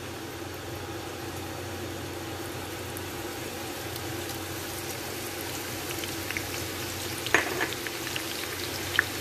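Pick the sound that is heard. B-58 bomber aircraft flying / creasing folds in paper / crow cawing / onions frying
onions frying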